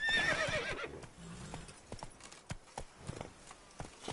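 Roach, a horse in the Witcher 3 video game, lets out a loud whinny at the start, then a steady clip-clop of hooves carries on alone at a galloping pace.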